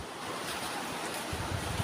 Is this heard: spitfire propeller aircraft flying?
no